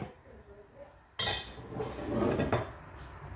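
A lid goes onto a cooking pot of botanding (whale shark–style) tinola soup with lemongrass, giving one clear metallic clatter midway, followed by a louder clink and rattling scrape, close and alone without talk.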